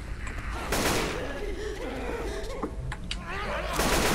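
Gunfire in the Deathcraft video game, a few sharp bursts of shots amid loud game noise, with a person talking and laughing over it.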